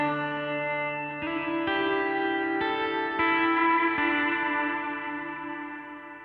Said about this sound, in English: let's just crank the reverb on the space here all the way up